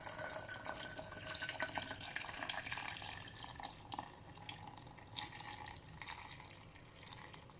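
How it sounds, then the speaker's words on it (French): Hot water pours into a pot holding meat and vegetables for a chorba frik soup, a continuous splashing, trickling stream at moderate distance with no talk. "Je vais ajouter l'eau chaude."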